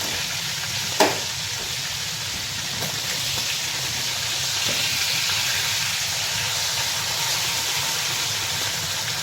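Trout sizzles steadily in a hot frying pan just after being flipped, a continuous crackling hiss with a sharp pop near the start and faint clinks, no voices.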